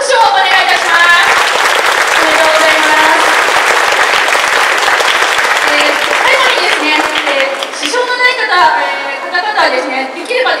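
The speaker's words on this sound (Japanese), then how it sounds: "正解された皆さんに今一度大きな拍手をお願いいたします。" Loud, sustained applause from a large crowd at a police station crime-prevention festival, dense clapping that continues for several seconds before thinning out, with a voice speaking over the tail end.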